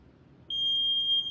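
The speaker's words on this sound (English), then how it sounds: "I'm just turning the timer on now." A workout interval timer starting up gives a single sustained high-pitched electronic tone that begins abruptly and holds steadily for about a second, clear and close against a quiet room.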